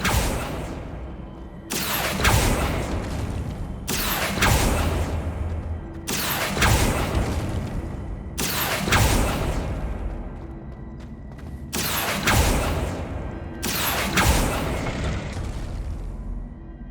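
Repeated Depulso and Accio spell casts in Hogwarts Legacy, a steady series of loud booming bursts about every two seconds, each with a swelling whoosh and fading tail.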